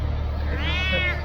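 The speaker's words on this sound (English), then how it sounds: "That's the cat." A cat in the Batman Telltale video game lets out a single drawn-out meow, close and clear over a low background hum, with no talk over it.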